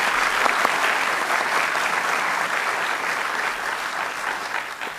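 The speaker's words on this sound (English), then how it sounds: "A final round of applause for both of them for their excellent debate tonight." A theatre audience applauds two debaters at the close of an evening debate on the resurrection of Jesus, a dense, steady wash of clapping that fills the whole stretch and fades slightly toward the end.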